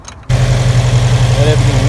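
A Subaru WRX, fresh from a TPS sensor and steering rack install, catches and settles into a steady, low, throbbing idle during warm-up, loud and close, with a voice briefly audible over it.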